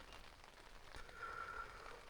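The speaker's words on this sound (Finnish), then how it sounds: "Tuossa oli pikku tauko sateessa, mutta taas jatkaa." Steady light rain falls outdoors at a wilderness camp in the Muotkatunturi fells of Finnish Lapland, a soft, even patter and hiss with no voices.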